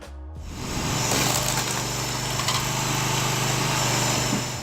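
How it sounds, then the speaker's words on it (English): A flywheel firewood splitter runs with a steady, loud mechanical drone and a faint rhythmic whir, its engine holding an even pitch close by, with no talking. "This wood splitter works precisely"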